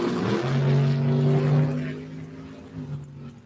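Drag race door cars, a Chevrolet Nova and a Camaro, launching off the starting line at Mo-Kan Dragway, with a loud sustained engine roar at the start that tapers off as they pull away.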